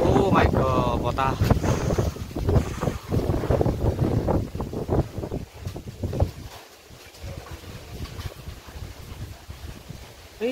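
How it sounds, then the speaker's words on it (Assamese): Strong, cold wind blows outdoors ahead of rain, roaring loudly and buffeting the microphone in gusts before easing somewhat in the second half. "ধুনীয়া ঠাণ্ডা ঠাণ্ডা বতাহ আহি আছে"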